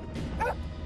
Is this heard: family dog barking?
yes